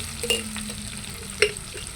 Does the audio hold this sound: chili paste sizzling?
yes